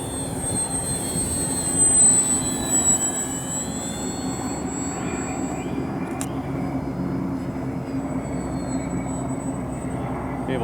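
FMS Ranger 1220mm electric RC trainer airplane flying in wind, a steady high motor and propeller whine overhead with a slight swell early on, continuous and moderately distant, no talking.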